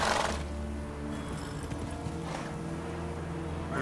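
In The Witcher 3: Wild Hunt, a horse gallops off-road with a steady rumbling beat of hooves, a snort or whinny at the start and continuous ambient game sound underneath.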